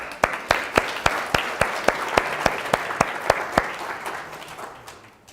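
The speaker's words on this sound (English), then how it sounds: "let's give him a round of applause." Applause for a green screen contestant at a talk on educational video formats: a small group's loud, sharply separated claps in a brisk, even rhythm that thin out and fade by the end.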